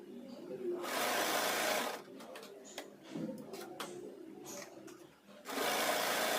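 A sewing machine stitches a folded seam on a girls' uniform skirt, running in loud steady bursts separated by pauses with faint clicks and handling.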